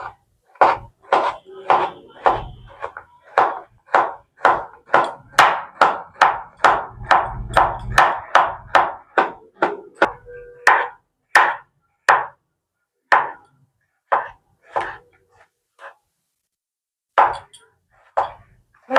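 A knife chops peeled ridge gourd on a board in a quick, even run of sharp knocks, then the strokes slow and space out before stopping, close and clear with no talk.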